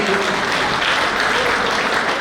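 Crowd clapping at a sponsors' honouring of team players at a local kabaddi-style sports event in Punjab, a dense, steady wash of applause filling the whole moment without pause.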